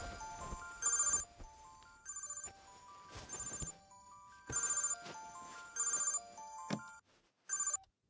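A telephone rings in repeated short electronic bursts, about five evenly spaced rings with gaps between, clear and fairly close in an otherwise quiet room.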